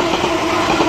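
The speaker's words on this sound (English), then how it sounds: "We have a London Northwestern 350." A London Northwestern Class 350 electric train rushes past close by at West Allerton, giving a loud, steady rolling roar of wheels on rail over a brief moment.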